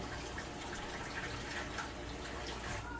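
Splashing, running water as a doll with boil-washed hair is dunked and put into cold water, a steady close wash of liquid noise throughout.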